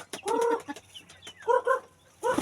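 Chickens cluck close by in short, bursty calls, several quick clucks in bunches separated by brief pauses.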